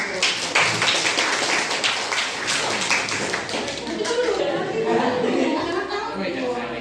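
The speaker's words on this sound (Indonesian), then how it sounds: "tepuk tangan" Students clap together in a maths classroom, a dense, steady patter of hand claps close by, with voices talking and laughing over it throughout.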